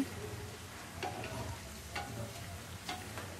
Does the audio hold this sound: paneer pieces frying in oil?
yes